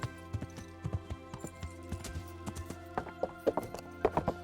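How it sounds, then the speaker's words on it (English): Horse hooves clip-clop in a steady walking rhythm during a morning ride in the video game Kingdom Come: Deliverance, clear, close and unaccompanied, with the hits growing slightly louder toward the end. "a nice morning ride on a fair maiden horse"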